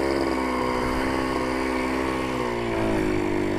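A Honda MB5 motorcycle engine pulling away in first gear, a loud close buzzing drone whose pitch dips slightly and rises as it catches and moves off.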